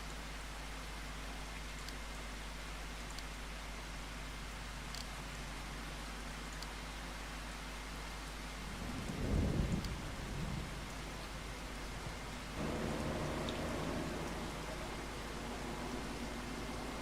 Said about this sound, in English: I don't know if you can harvest green beans in the rain though.